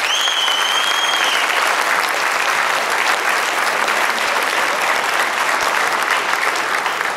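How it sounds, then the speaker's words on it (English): Guests at a wine auction benefiting a service dog charity give a steady, loud round of applause lasting several seconds, with a brief whistle at the start. "We have a round of applause."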